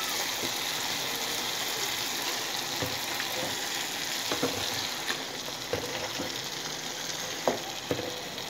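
Chicken pieces fry in a pan with stewed tomato sauce, giving a soft, steady sizzle broken by occasional pops and stirring knocks, fairly quiet and without talk.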